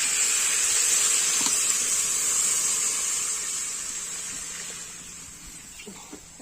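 Water poured into a pan of frying potato and soybean curry, a loud steady steaming hiss that gradually fades over several seconds, no talking.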